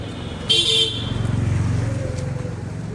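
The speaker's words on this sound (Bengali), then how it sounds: "ওদিক দিয়ে গাড়ি আসছে, রিক্সা আসছে এদিক দিয়ে" Road traffic with cars, rickshaws and motorcycles rumbling close by on a city street in Mymensingh, with an engine droning steadily and a short horn toot early on; no talking.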